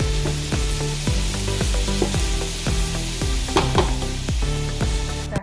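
Vegetables frying in peanut oil in a pot, a steady close sizzle with repeated rhythmic clanks and scrapes of stirring throughout, no talking.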